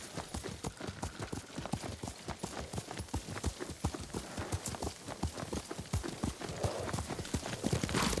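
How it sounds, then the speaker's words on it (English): A horse trots in the video game Ghost of Tsushima, with close, quick clip-clop hoofbeats repeating steadily throughout and no talk over them. "Lord Sakai taught me to ride a horse."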